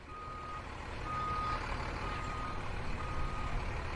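A tank being test driven in Tank Mechanic Simulator gives a steady, loud engine rumble with broad mechanical noise that swells slightly in the first second and then holds even throughout.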